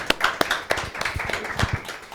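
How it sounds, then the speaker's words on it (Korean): A small audience at an indoor talk gives a short round of applause, with scattered, uneven hand claps that thin out. "원장님께 다시 한번 큰 박수 부탁드립니다."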